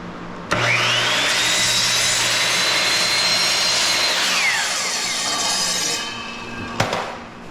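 A table saw cuts wood for a window jamb, starting with a sharp spin-up, then a loud, steady, close whine through the board that tapers off, with a final clunk.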